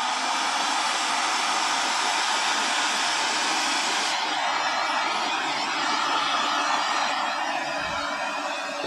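A heat gun blows hot air onto braided powercord sleeving, a loud, steady, broadband whoosh that runs continuously and shifts slightly in tone partway through, with no talk.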